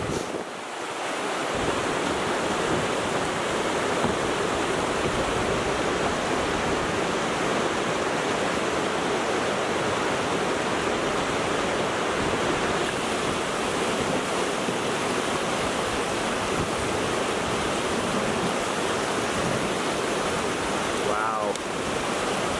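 River rapids in the Nova Scotia backcountry give off a loud, unbroken roar of rushing whitewater, close and constant the whole way through, with some wind buffeting the microphone.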